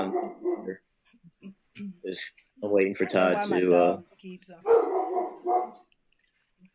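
A dog barks several times in short sharp bursts from a little distance, interleaved with a person talking close by.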